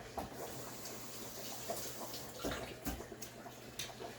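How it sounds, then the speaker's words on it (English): A green hot pepper rinsed under running water for a Jamaican soup, a faint trickling splash from a tap with small drips, close and quiet. "Just wash this green one, drop inside."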